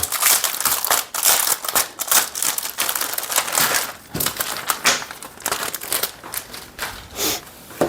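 Plastic vinyl packaging crinkles and crackles as a sun cap safety hat visor is unwrapped, with busy, uneven bursts of rustling handled close up, without any talking.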